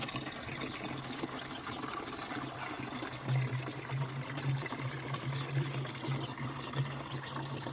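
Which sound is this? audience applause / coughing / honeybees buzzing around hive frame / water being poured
water being poured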